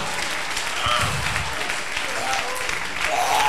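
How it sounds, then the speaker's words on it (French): Applause and cheering break out from a congregation at a French-language church service, a dense steady wash of clapping with some raised voices mixed in, loud and continuous throughout. "Ça mérite des acclamations pour Jésus."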